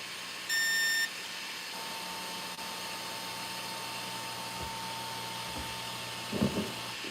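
Electronic speed controller of an RC car in programming mode gives a single clear beep early on, standing out against a quiet background hum, followed by faint handling noises.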